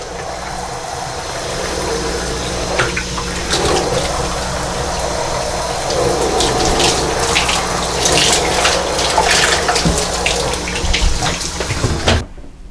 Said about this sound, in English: Just rinse under some warm running water